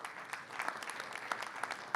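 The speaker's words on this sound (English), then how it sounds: "let's give a big round of applause to Andre de Castro" Audience applause welcoming speaker Andre de Castro to the stage, a fairly faint but steady spread of many hands clapping with scattered sharper claps, continuing alone with no talk.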